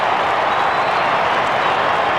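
A football crowd at an Essendon versus Melbourne match in 1998 cheers and applauds in a loud, steady wash of noise, unbroken from start to finish.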